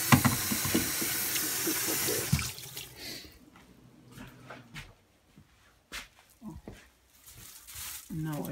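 Running water from a kitchen sink tap splashes over a stove top part being washed, loud and steady for the first couple of seconds, then giving way to quieter intermittent clatter and trickles, with a dog barking and someone talking nearby.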